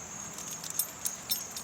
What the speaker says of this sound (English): hang my keys up